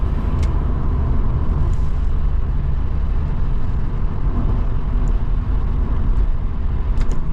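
A Vauxhall Cavalier Diplomat car drives along in fourth gear, its engine droning steadily with constant road noise and no one talking.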